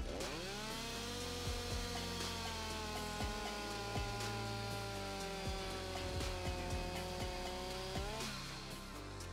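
A Stihl petrol chainsaw running steadily at full throttle, a loud, continuous high engine whine with sharp bursts of cutting noise throughout.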